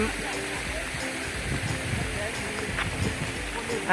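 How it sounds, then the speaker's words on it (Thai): A flowing stream near the natural Dan Baen waterfall at Ban Na Do gives a steady, even rush of water close by, with faint talk over it. "อันนี้คือลำน้ำนะครับ"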